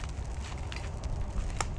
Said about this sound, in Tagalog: Pantayin lang natin yung apoy